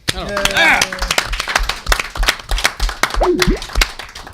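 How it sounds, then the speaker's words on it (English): A small group claps for a guest, scattered close hand claps in an irregular rhythm with talk and a voice over them. "Round of applause for Josh."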